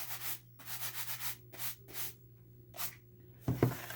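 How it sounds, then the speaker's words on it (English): An eraser rubs pencil lines off a paper pad, flat side down, in several steady scrubbing bursts of close, soft rasping with brief pauses between, ending with a couple of light taps. "I'm going to take my eraser on the flat side and remove all the pencil lines"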